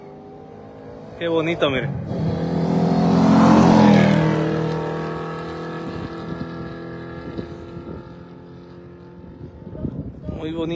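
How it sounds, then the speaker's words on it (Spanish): A red Ferrari race car in the Carrera Panamericana roars past, its engine note swelling to a loud peak as it nears and then fading away, with a voice speaking over it. "aquí ya viene el Ferrari"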